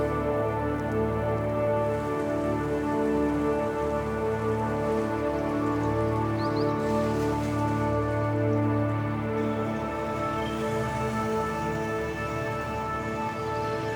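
Steady monsoon rain pours down in the Western Ghats, a dense, even hiss that continues for the whole stretch, with a constant tonal hum running beneath it and no voices.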